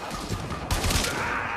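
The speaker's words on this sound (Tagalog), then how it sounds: "nasa ere, bumabaril." Dense gunfire in the Warframe Mobile action game while the character glides through the air, a continuous rattling burst that swells louder halfway through over a busy game soundscape.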